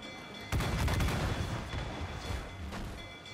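Ship cannons boom in a naval battle in Assassin's Creed IV Black Flag, Freedom Cry. A heavy blast lands, and a second, weaker boom follows later, with rumbling gunfire in between.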